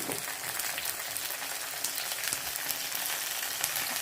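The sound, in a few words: shallots and ground paste frying in a pan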